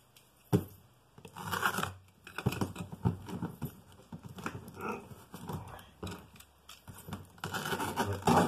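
Bursts of crackly tearing and scraping, close and uneven, as adhesive tape is peeled off a box holding a vintage STIHL 041 AV chainsaw, in several short pulls.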